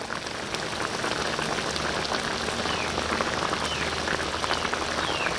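Fried tofu going into a simmering braised beef sauce, giving a steady, dense sizzling and bubbling crackle that holds at an even level throughout, with no talk.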